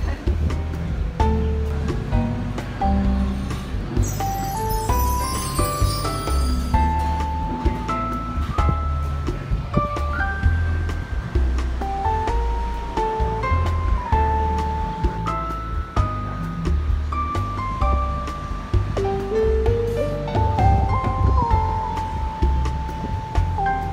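Ocean surf at Woorim beach on Bribie Island rolls and washes continuously beneath a loud melodic music track that dominates the mix.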